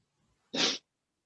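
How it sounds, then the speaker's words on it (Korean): A single short, sharp human sneeze, close and fairly loud, preceded by a faint breath and followed by silence. "말을 하려고 그러면 재채기가 나와."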